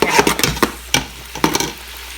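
Scallops sizzling in a pan while being stirred, with several scraping utensil strokes over a low frying hiss, close up and without talk.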